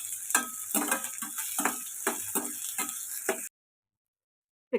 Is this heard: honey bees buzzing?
no